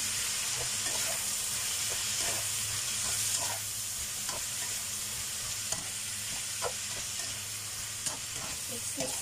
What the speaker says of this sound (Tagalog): Mix natin siya. Mix.